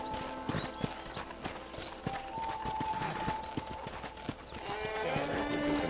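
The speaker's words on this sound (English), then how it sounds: "let's see if you can still ride a horse" Horse hooves clip-clop at a steady riding rhythm on a ranch in the Red Dead Redemption video game, close and moderately loud, with game music and ambience layered underneath.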